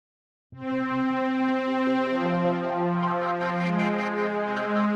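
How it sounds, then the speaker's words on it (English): A bright, buzzy sawtooth synth note enters and sustains, rich in harmonics, shifting pitch slightly midway, steady and alone. "this is just a normal sawtooth"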